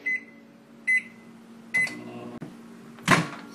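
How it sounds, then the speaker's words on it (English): A microwave oven beeps three times in a regular rhythm over a faint hum after heating fenugreek leaves for 60 seconds, followed by a door clicking and a louder clunk. "Then I microwave it for 60 seconds"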